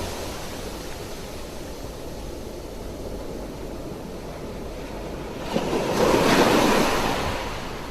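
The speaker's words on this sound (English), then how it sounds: "You hear the gentle rush of water as the tide whooshes over the shore" Steady ocean surf hisses and rumbles nearby, then a wave swells and washes in more loudly toward the end before easing off; no voices.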